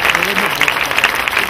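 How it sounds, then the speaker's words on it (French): A congregation at a crusade event in Bafoussam claps for Jesus, a brief burst of dense, loud applause with voices mixed in. "Applaudissons pour Jésus."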